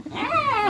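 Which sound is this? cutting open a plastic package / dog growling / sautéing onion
dog growling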